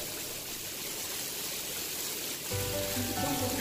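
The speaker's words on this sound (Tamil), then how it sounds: "நம்ம இப்போ ரெயினில் தான் வந்துட்டு இருக்கோம்" Artificial rain pours steadily inside the Rain Room in Sharjah, a dense even hiss of falling water that swells louder and fuller near the end.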